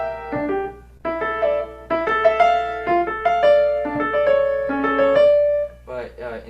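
Piano plays the original ending of Beethoven's Tempest Sonata, a sequence of struck chords and melodic notes with soft pauses, fairly close and moderate in level, with a brief voice at the very end.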